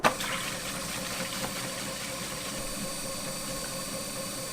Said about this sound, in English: The speed should be at 2, and we'll process for about 2 minutes.